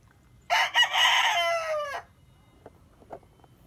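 A kanawayon rooster gives one loud, close crow lasting over a second, followed by a few soft scattered clucks from the chickens nearby.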